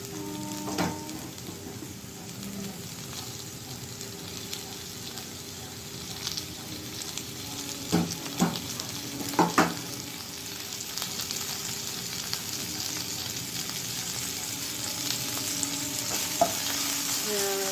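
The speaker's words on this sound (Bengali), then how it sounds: "পেঁয়াজটা এবার লাল লাল ভাজা ভাজা হয়ে এসেছে, এবার আমি টমেটোটা দিয়ে দেবো।" Onion and tomato frying in a pan, a steady close sizzle with occasional scraping stirs of a spatula, part of a potato and cauliflower curry, continuing alone without talk.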